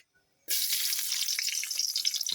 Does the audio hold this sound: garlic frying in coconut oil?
yes